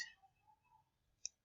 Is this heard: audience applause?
no